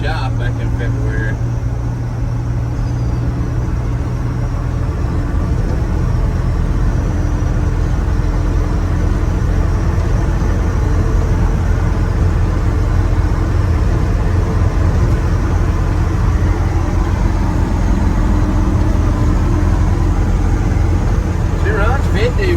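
A 1965 C30 dually truck cruising with a super low gear, its engine droning loud and steady from inside the cab with constant road rumble throughout.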